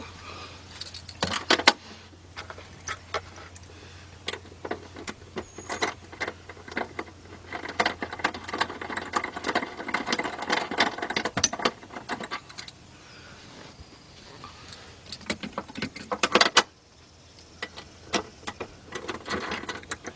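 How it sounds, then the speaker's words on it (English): Removing the three nuts holding down the rear fuse box of a Cadillac DTS: close metallic clicks, ratcheting taps and small clinks in irregular bursts, with quieter pauses between. "we take off those 3 nuts that's holding down the box itself"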